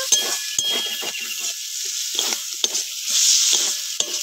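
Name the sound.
stirring crab curry with cumin paste in a pan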